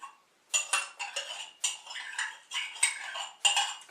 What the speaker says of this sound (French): Edwige va vider le yaourt avec la cuillère